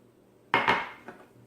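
Hot water poured into a flour and lard mixture for homemade flour tortillas, heard as a short clattering burst with a second bump, like a cup knocking against a bowl, close by and with no talk.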